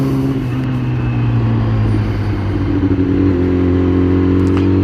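A motorcycle engine drones steadily without shifting gears inside a Pittsburgh tunnel, loud and close, with a deep, even hum that echoes throughout.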